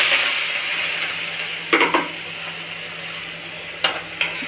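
Steady hiss of onions and curry leaves frying in oil, with a few brief clinks of a utensil against the pan.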